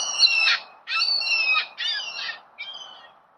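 Three swans and two cygnets call alone in a quiet spot, giving four harsh, nasal honking squawks in quick succession, close by, with a faint low road hum beneath.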